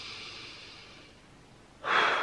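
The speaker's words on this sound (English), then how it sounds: "The number 2 thing that you're going to do today is you're going to breathe it out" Person breathing out deeply, a soft airy exhale that fades away, then a sharper, louder breath of air near the end, close and without speech.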